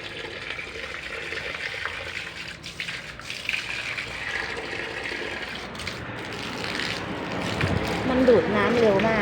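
Water sprays steadily from a hose while plants are watered and the front of a house is washed down, a continuous close hiss that grows stronger toward the end, with a voice at times.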